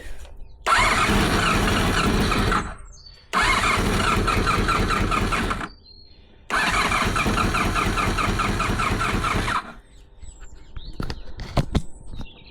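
A Honda VFR400 NC30 motorcycle engine being restored after a barn find runs in three loud sustained bursts of revving, each cut off abruptly, followed by quiet clicks and handling noises.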